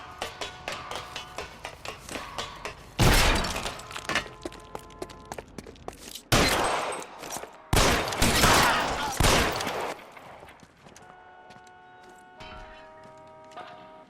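Gunfire in the L.A. Noire video game: several loud, separate bursts of shots crack out over a quieter background, the longest volley coming in the later half.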